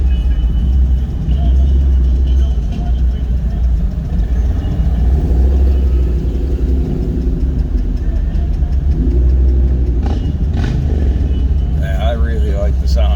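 Car engine and exhaust at the Woodward Dream Cruise, a loud, steady, low rumble of idling and revving, close up, with people talking over it throughout.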